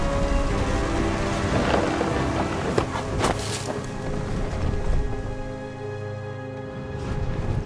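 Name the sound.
thunder and rain in a storm, from the video game What Remains of Edith Finch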